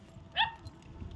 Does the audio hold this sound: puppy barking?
yes